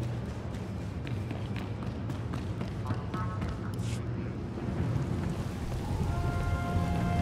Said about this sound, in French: Et il pleut toujours.